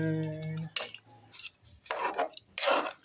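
A spoon scrapes and clinks against a pot of chicken adobo simmering in coconut milk, with several short bursts of stirring separated by quiet gaps after a low hum at the start.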